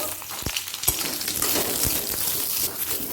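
Eggplant fries in a little mustard oil in a kadai, a dense, close sizzle with a few sharp crackles and pops running throughout.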